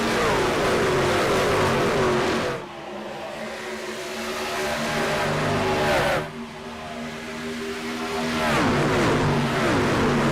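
Racing trucks roar around the Homestead track, with loud engines rising and falling as the trucks close in and pass by in waves, pitch sweeping down with each pass; no voices heard.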